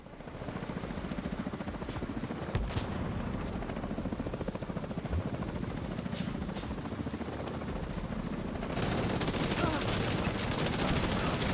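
Helicopters in a shooter video game give a loud, continuous rotor chop throughout, with sharp gunfire bursts and impacts mixed in.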